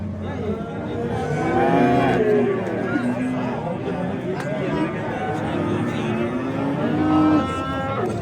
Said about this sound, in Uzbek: Ammo zo'r sigir bo'layapti.